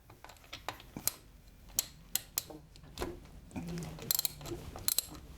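A spark plug wrench with a small rubber cushion breaks a motorcycle spark plug free: scattered sharp clicks and ratcheting ticks, close and fairly quiet, with a brief low grinding crack partway through.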